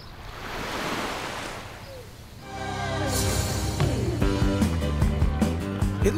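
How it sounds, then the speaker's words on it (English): Water laps steadily against the shore of an island in a soft, continuous wash; partway through, a layered tonal sound joins the water and carries on beneath it. "I could sit back, relax, and enjoy the sounds of the lapping water."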